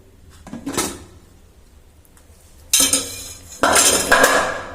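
Metal clatter and clinks from a pressure cooker of vangi bath rice being opened in a home kitchen, with sharp bursts of clanking lid and utensils in separate loud bursts, no speech.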